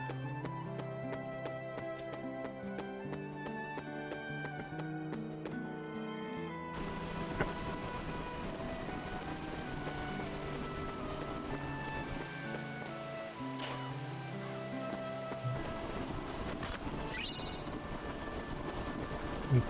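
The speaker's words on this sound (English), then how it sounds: "We made it to a train station." Train station ambience in Kingdom Hearts 2, a continuous layered wash of background music and environmental hum that shifts character partway through, steady and moderate with no talking.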